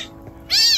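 A young kitten being bottle-fed milk gives one short, bright meow close to the microphone, rising out of quiet room noise. No one speaks over it.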